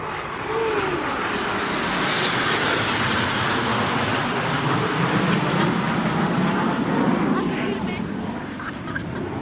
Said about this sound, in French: il y a régulièrement des avions qui passent